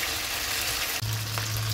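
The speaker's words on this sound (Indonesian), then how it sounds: "Jadi dibentuk dulu dengan menggunakan sendok, lalu kita goreng." A spoon-shaped tofu mixture fries in hot oil, giving a constant close bubbling sizzle at a steady level throughout with no voices.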